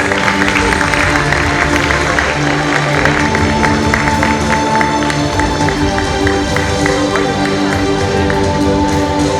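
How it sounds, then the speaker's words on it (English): Audience applause for middle school art competition winners at a Mahatma Gandhi 150th birth anniversary event, a steady loud wash of many hands clapping with crowd noise and tonal music or hum running throughout. "Can we please have a round of applause?"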